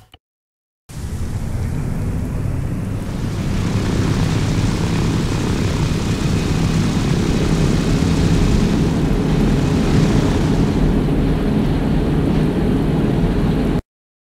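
A large propeller plane's engine drones in a flight game as it taxis toward a hangar, a loud, steady roar that starts abruptly after a brief click and holds evenly before cutting off at the end.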